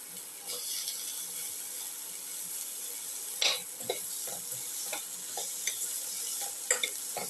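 Pumpkin pieces being stirred with salt in a pan for a pumpkin tomato rice soup, a soft steady sizzle broken by scattered scraping clicks of the utensil against the pan.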